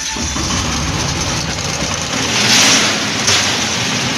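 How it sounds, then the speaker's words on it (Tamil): A Piaggio Ape Xtra LDX three-wheeler's engine runs at a steady, loud idle with a rough diesel-like rattle, close up, with a slight surge in the middle and no talking. "இப்போ இந்த வண்டிக்குள்ளே இன்ஜின் சவுண்ட் ஸ்டார்ட் பண்ணி"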